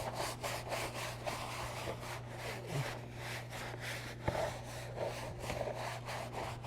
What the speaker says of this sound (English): Now we're going to come back behind with our soft brush, get it wet a little bit, add just a couple more squirts of cleaner.